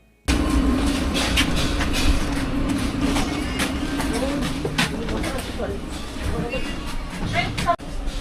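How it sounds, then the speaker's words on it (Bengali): A train stands at a station on a winter morning during boarding, with a steady rumble, clicks and bangs, and a babble of people talking around it throughout. "চলুন এবার তাহলে ট্রেনে ওঠা যাক।"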